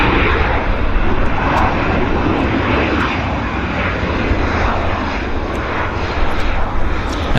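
An airliner on a flight from San Diego arrives at Vancouver airport, with a loud, steady engine roar that fills the whole stretch and never lets up. No one talks.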